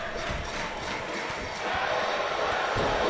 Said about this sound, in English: Tag team wrestling, the crowd chants.